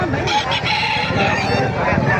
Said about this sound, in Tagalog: Napakagandang manok, oh.